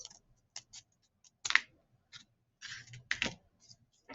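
Scissors snip around folded paper to shape a paper flower petal layer, giving sparse, quiet clicks and short crisp cuts with pauses between them.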